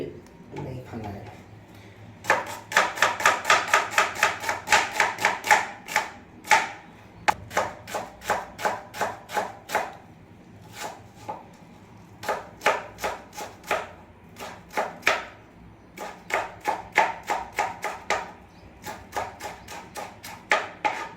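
Onion being chopped with a knife on a board for an omelette, crisp rapid knocks in quick bursts of evenly spaced strokes with short pauses between runs, close and clear.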